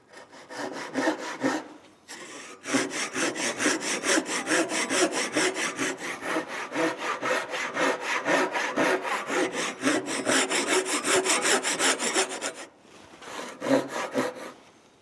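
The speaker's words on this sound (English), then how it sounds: "now I'm going to start sawing to my proper depth." A Japanese ryoba hand saw cuts through wood with fast, steady back-and-forth rasping strokes, close and loud, pausing briefly twice before resuming.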